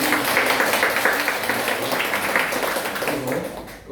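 A church congregation at a Sunday service applauds with dense, sustained clapping that fills the room, then fades slightly at the end.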